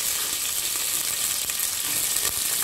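Onions and curry leaves fry in hot oil with a steady, dense sizzle and crackle throughout, close and fairly loud, with faint stirring and no talk.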